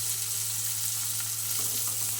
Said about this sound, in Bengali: আজকে আমি পটল এইভাবে চিংড়ি মাছ দিয়ে ভাজা করে খাবো